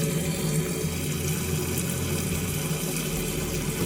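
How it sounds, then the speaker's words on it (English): Water tap running steadily in a Globevan Campscout camper van, a continuous close rushing hiss with a faint low hum beneath it, no voices. "we go over to the right for the cold and pull the tap up"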